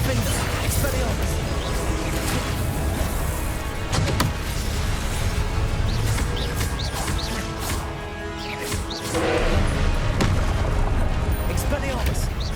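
Confringo fire spell blasts in Hogwarts Legacy boom repeatedly through a dense, loud combat mix of impacts and crashes, with a voice speaking over the fighting.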